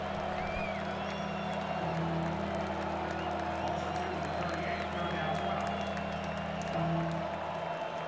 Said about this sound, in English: The crowd loud at Ohio Stadium.